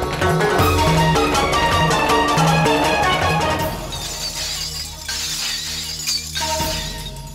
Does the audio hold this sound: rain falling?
no